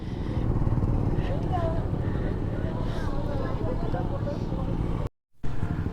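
A group of motorcycles setting off together on a long ride rumbles close by in a dense engine roar with wind buffeting, then briefly cuts out near the end before resuming.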